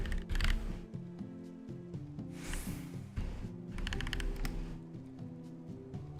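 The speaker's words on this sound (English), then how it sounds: "Hear my nice little keyboard again." Typing on a computer keyboard during a Final Fantasy XIV gaming session, a steady run of quick soft key clicks with a few louder bursts, close and fairly quiet.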